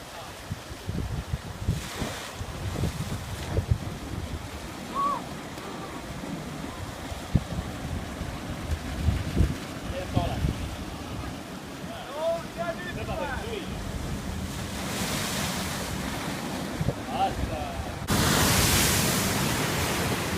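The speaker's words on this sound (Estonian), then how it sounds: "Merelt tuleb laine. Suur ja raske." Heavy ocean waves surge in from the sea along a channel on the Australian coast, a continuous roaring wash with wind buffeting the microphone and a louder rush near the end.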